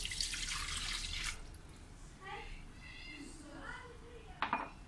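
A glass of cold milk is poured into an electric blender jug, a close liquid pour with clinks of glass, and a voice murmurs faintly in the background.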